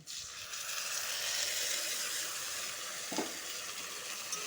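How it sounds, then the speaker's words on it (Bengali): Spice paste fries with pointed gourd in a pan, a steady close sizzle and hiss with one brief stir-like bump near the end, and no voice. "পটলের সাথে ভালো করে ভেজে নিব"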